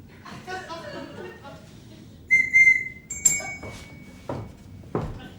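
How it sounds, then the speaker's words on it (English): A short, sharp whistle blast cuts in partway through a stage performance of Allo Allo, with talking before it and a couple of soft knocks afterward. "Then I will give a secret signal on my whistle."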